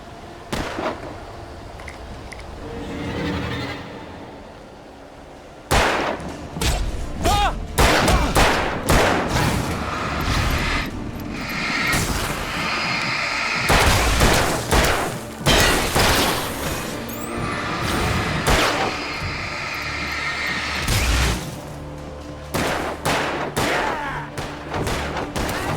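Gunfire during a fight in the game Alan Wake: repeated loud, close shots and heavy booms in irregular clusters, some rapid, with thuds between them and no talking over them.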